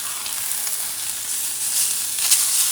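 A very thin steak fries in a hot pan with a continuous bright, crackling sizzle, loud and close, swelling slightly toward the end.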